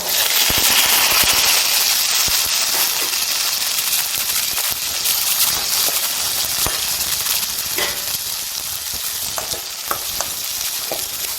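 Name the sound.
shallots and potatoes sautéing in a pan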